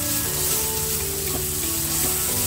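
Chopped drumstick leaves sautéing in a pan over a low flame, a steady close sizzle and frying hiss running continuously with faint low hum beneath, no voices.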